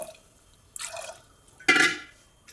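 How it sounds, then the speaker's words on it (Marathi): Two short bursts of water poured into a metal pressure cooker holding soaked peas, the second louder and longer, near and otherwise quiet. "त्याच्यानुसार पाणी टाकायचं"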